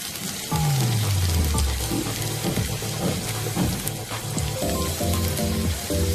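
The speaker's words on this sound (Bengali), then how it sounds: "তেল গরম হয়ে গেছে তো আমি দিয়ে দিচ্ছি একটা একটা করে" Sesame gujia dropped into hot oil and frying, a steady crackling sizzle with clinks of utensils and a brief rising tone at the start, moderately close.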